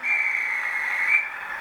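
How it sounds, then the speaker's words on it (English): A guard's whistle from a class 37 model train setup gives one sustained, shrill, steady tone, fairly loud and close, lasting over a second before cutting off. "Guard's whistle."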